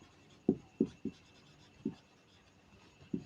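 A pen striking paper while trigonometry notes are written out, six sharp, separate taps and strokes at uneven intervals, close and clear in an otherwise quiet room.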